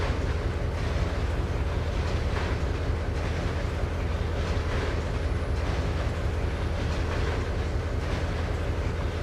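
Simulated BNSF freight train with well cars rolling past in Trainz 2022, a steady loud rumble of wheels and rail noise filling the whole stretch with faint clickety-clack, no voices.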